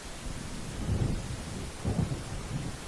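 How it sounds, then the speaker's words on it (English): Thunderstorm rolling in within the video game Alan Wake: deep, low rumbles of thunder swell twice, around the one- and two-second marks, over a steady dull background wash, with no voices. "It seems there's a storm coming."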